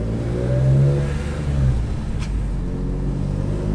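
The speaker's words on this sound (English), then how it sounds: "We're gonna go take a quick test drive, see if we can, feel a bit of the difference, especially at higher RPM" A BMW E46 M3 engine revs hard during a test drive, climbing to high RPM with a loud mid-pitched roar, easing off, then holding a steady drone from inside the car.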